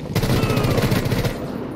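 Dense automatic gunfire from a Rainbow Six Siege match, a rapid rattling burst of close, loud shots lasting over a second before trailing off.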